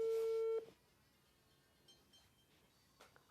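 Phone busy tone after a hung-up call, one steady beep about half a second long, clear and close, followed by quiet room noise with faint rustles.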